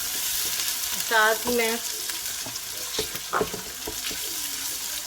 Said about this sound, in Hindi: अब मैं इसमें अदरक लहसुन की पेस्ट डाल रही हूँ।